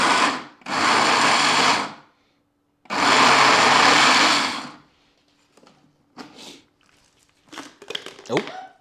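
Two loud bursts of a blender whirring, each lasting over a second with a short pause between, followed by quieter clattering and handling noises.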